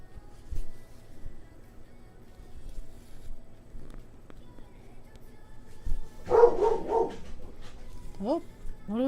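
A small pixie dog barking at something out front of a house, a short burst of yips and whimpers near the end, fairly faint and somewhat distant, with quiet room noise before.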